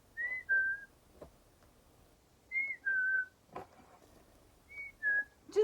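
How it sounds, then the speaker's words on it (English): A bird whistles a repeated two-note call three times at regular intervals, clear against a quiet background with occasional faint knocks. "these birds that make this like sound have been doing it non-stop the last like 3 days"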